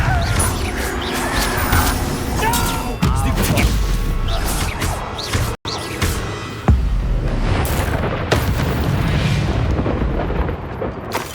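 A Confringo fire spell goes off in the Hogwarts Legacy video game with a loud burst of blasts and crashes amid busy combat noise, a brief dropout midway, then more impacts and rumble.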